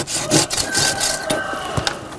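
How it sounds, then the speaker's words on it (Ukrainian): A hand pruning saw cuts through a thick fruit tree branch in a garden orchard, with rapid rasping back-and-forth strokes, close and fairly loud, and no talking. "Серед його інструментів є спеціальна пилка, якою чоловік зрізає товстіші гілки."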